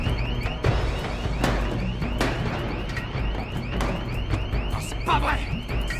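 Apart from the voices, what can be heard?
alarm blaring in action film scene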